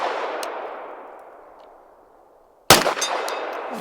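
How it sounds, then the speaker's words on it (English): A single sharp gunshot from a Flux Defense Raider firearm cracks loud and near at the end, preceded by a fading ringing tail from an earlier shot. "Shoot out past the camera, blow the mic out."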